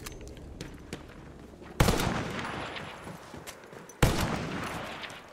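Gunfire in the video game Battlefield 1: a dense crackle of distant shots, then two loud close blasts, each trailing into a long rumbling decay, with scattered pops between them.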